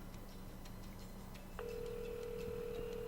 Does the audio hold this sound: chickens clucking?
no